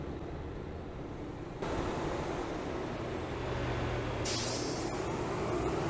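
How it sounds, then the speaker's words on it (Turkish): A steady low engine drone of a Mercedes-Benz Tourismo bus in Euro Truck Simulator 2, with a constant rumble that grows slightly louder, and a brighter hiss joining toward the end. "Otobüsün sesini biraz duymuş oluruz."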